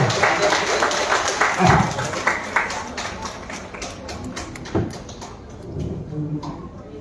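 An audience at a literary festival claps in a scattered, uneven burst that tapers off, with some knocks and shuffling mixed in; a voice is faintly present beneath.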